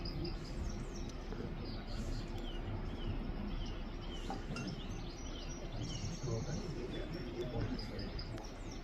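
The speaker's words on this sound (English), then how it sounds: "Some nice birds singing" Birds chirp and tweet faintly in an outdoor setting at a match, their calls scattered over a constant background hum with distant voices.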